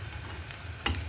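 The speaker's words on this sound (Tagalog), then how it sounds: "Prito muna tayo." Egg shanghai rolls frying in a pan, giving a soft steady sizzle under a low hum, broken by two brief crackling pops, the second louder.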